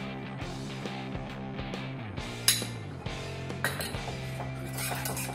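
Metal spoon clinking against a pan while nacho cheese sauce with cheese cream is stirred over a low gas flame, several light irregular clinks and taps close by, with a louder knock midway and no talk.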